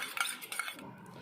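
A spoon stirring a homemade sanitizer mixture of Dettol in a small container, giving a few light clinks and scrapes of metal against the vessel, brief and fairly close, with no talking.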